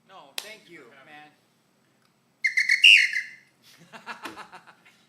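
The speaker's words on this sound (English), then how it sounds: "Now I wanted to ask you about that whistle" A shrill whistle blown in a drum shop, a single bright burst of about a second standing alone between stretches of nearby conversation.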